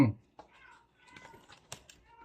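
A cat meows a few times, short and fairly close, with a voice and soft chatter around it.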